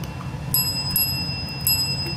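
A ten-week-old dachshund puppy strikes a service bell, giving three bright metallic dings with ringing decay over a low room hum.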